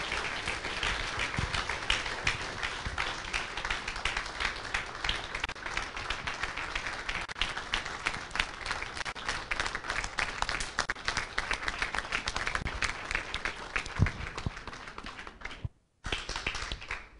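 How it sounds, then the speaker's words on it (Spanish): Church audience applauding steadily for a long stretch, dense patter of many hands clapping, with a brief drop near the end before it resumes. "Por favor, denle un aplauso grande al Señor."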